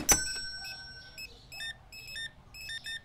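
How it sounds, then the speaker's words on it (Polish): Checkout scanners beep in the video game Supermarket Simulator: a sharp tone at the start, then short, crisp electronic bleeps in quick clusters, fairly close, over a quiet store background without speech. "Pracownicy i tak na kasach pikają."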